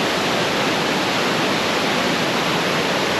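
A small waterfall fed by mountain water at Bonacaud, in the hills near Trivandrum, gives a steady, dense rushing roar that continues without a break and with no voices.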